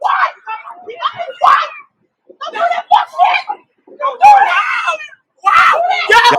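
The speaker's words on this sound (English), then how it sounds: "Y'all can hear the kids crying." Kids cry and scream in repeated loud, ragged bursts with short pauses between them, and voices shout over them.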